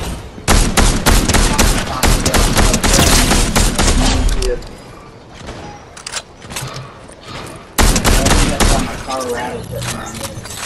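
Dense bursts of rapid gunfire in Fortnite No Build, loud and close, crackling for several seconds, pausing briefly, then erupting again in sharp clustered volleys.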